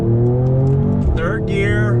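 A 2020 Mercedes-AMG E 53 accelerates in manual mode along a twisty road, its engine note climbing steadily with a gear change partway through, heard from inside the cabin beneath ongoing talk.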